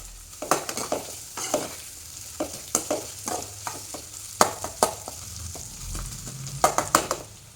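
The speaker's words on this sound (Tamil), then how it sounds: "வெங்காயம் நல்லா கோல்டன் ப்ரௌன் ஆகிற அளவுக்கு வதங்கட்டும்" Onions fry in oil toward golden brown as a spoon stirs them briskly, producing frequent sharp scraping clicks against the pan over a light sizzle, close and clear with no talking.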